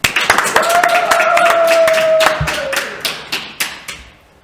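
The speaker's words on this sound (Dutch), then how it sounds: "Geef hem een hartelijk applaus" A few people in a radio studio clap for a guest, a sparse run of distinct handclaps thinning out toward the end, with a sustained tone and a voice briefly underneath.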